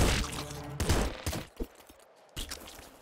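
Rapid SMG bursts in the top-down shooter Nuclear Throne, loud clattering volleys that break off into short gaps and single cracks before a final burst, with small game effects scattered between.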